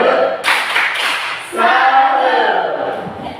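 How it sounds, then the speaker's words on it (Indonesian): An audience claps together in a workshop session on school discipline, a dense burst of hand claps that surges twice and keeps going loud and close, with voices mixed in. "Kita tepuk tangan untuk kita semua."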